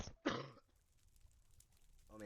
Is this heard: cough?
yes